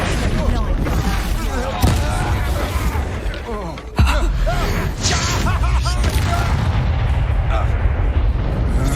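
Bombarda explosion spells cast in the video game Hogwarts Legacy, with loud blasts and booming impacts around 2 and 4 seconds over continuous dense game sound, voices and chatter.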